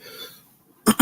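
Two short, harsh coughs sound close by after smoking a joint, a quick double burst that follows a brief fading murmur.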